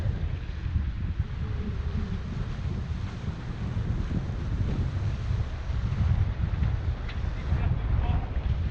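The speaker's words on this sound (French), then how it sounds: "On a toujours 19 nœuds de vent" Wind buffets a microphone aboard a catamaran sailing at sea in about 19 knots of breeze, a continuous low roaring rush with water and hull noise beneath, steady and fairly loud with slight surges.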